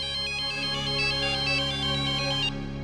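A mobile phone ringtone plays continuously, a loud repeating electronic melody with a steady pulsing pattern over a full musical backing, cutting off abruptly near the end.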